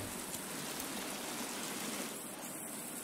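A waterfall in the survival video game The Forest rushes steadily, a broad hissing wash of falling water that stays constant and fairly close throughout.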